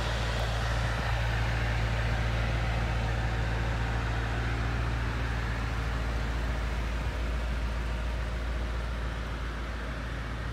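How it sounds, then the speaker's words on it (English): Air rushes into the intercooler of a 2020 Chevrolet Corvette C8 Z51 2LT as a loud, steady, unbroken hiss with a low hum beneath, close to the car the whole time. "Just listen to that intercooler sucking in the air."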